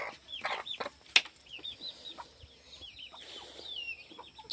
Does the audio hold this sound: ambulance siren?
no